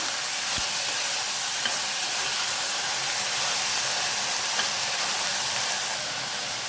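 Onions with salt sautéing in a pressure cooker for egg kurma, giving a continuous loud hiss of frying that holds steady throughout, with faint occasional stirring scrapes.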